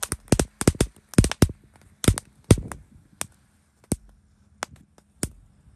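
Mercon tank firecrackers set off two boxes at once, popping in rapid clustered bursts at first, then thinning to scattered single cracks with pauses between, sharp and close in otherwise quiet surroundings.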